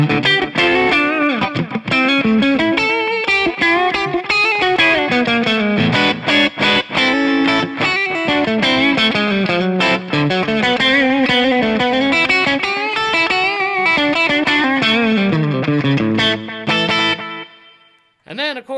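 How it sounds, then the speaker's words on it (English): Kiesel Johnny Hiland JH6 electric guitar played through its middle pickup alone, giving a continuous, loud run of distorted melodic lines and chords with a chorus-like shimmer, ringing out and then stopping near the end. "So this is just the middle pickup by itself now."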